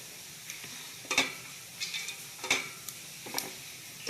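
Cloves and cumin drop into hot ghee in a heated pot, giving soft intermittent sizzles and sharp scraping clinks from a utensil against the pot, with quiet gaps between and no voices.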